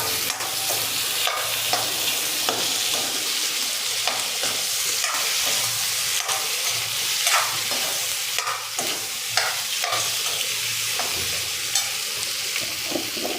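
Chopped potatoes frying in a pan for a dry Gujarati potato dish, with a steady sizzle and repeated scraping strokes of a spoon stirring throughout, no voices.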